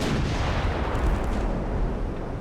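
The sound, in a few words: torpedo hitting ship in Ultimate Admiral Dreadnoughts video game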